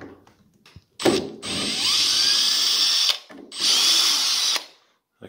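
A power drill backs out a hinge bolt on an AEG/Electrolux fridge-freezer door, with two loud sustained whirring bursts separated by a brief pause and faint handling clicks before and between.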